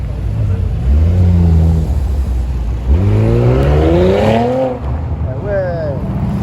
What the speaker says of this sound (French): super belle AMG GTR, magnifique. Je vais essayer de vous prendre le start-up des deux